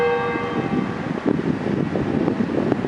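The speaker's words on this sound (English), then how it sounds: "as the clock or as the bell tone at this church" A church bell rings a single sustained tone that hangs and slowly decays at the start, over a rumbling, windy outdoor background.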